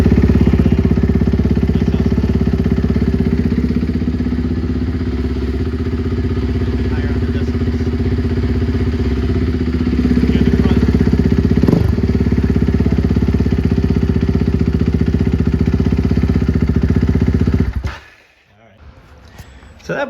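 A car engine idles steadily and loudly with its exhaust end cap removed, a deep even rumble that holds for about eighteen seconds before cutting off abruptly.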